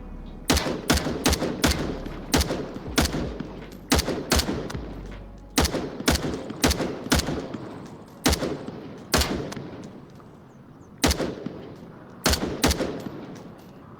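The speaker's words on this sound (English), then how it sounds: "So this is me firing kind of without my ProTube." Gunfire in a VR shooter game played on a Quest 2, sharp repeated shots in short bursts and single cracks spread over about fourteen seconds, loud and close, with no voices.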